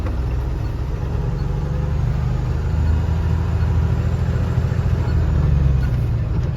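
A six-tyre truck's engine runs steadily at idle, a loud, continuous low rumble with no change in pace, heard close up and alone.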